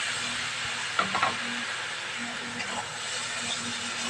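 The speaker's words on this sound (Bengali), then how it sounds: "দিয়ে আরেকটু ভাজা ভাজা করব" Pointed gourd frying in a pan gives off a constant sizzle, with a few brief clinks of stirring mixed in near the start.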